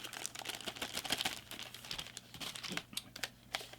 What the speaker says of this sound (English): Nice plastic bag, help protect it.